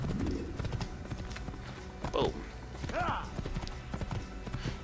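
Horse hooves clip-clop in a steady rhythm during Assassin's Creed gameplay in Damascus, close and prominent, with a short spoken interjection and occasional game sounds over the hoofbeats.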